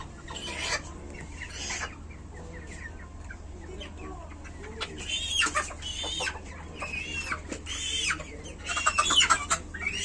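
Chickens cluck and squawk in bursts close by, growing busier toward the end, over a low steady hum with some voices mixed in.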